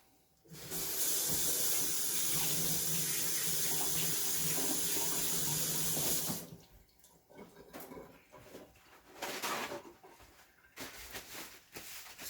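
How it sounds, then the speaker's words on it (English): A tap runs in a steady, loud gush for about six seconds while hands are washed, then stops, followed by softer splashing and handling noises at a sink. "I'm gonna wash my hands"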